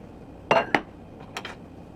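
A metal pan set into a cooler makes two sharp metallic clinks close together, then a couple of lighter knocks, in a quiet kitchen.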